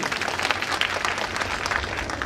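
A crowd applauds at a Lok Sabha election political rally in Dharashiv, with steady, dense clapping heard fairly close throughout, with no talk over it.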